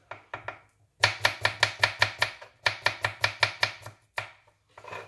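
A knife chops radish on a cutting board for a salad, sounding as quick, crisp, evenly spaced thuds in close bursts, starting with a few scattered cuts, then two fast runs and a last few strokes, with no talking.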